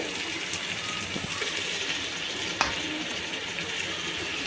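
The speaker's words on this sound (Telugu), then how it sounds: "ఇక్కడ చూసారా నీళ్ళు అయితే బాగా కాగుతున్నాయి" Water boiling hard in a pot for paneer biryani makes a steady bubbling, hissing roar at close range with one brief sharp knock. No voices are heard.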